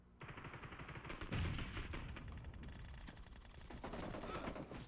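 Gunfire in the PUBG Mobile game comes as a dense, continuous burst of rapid shots, loud and close, with bursts layered over a constant noisy bed for the whole stretch.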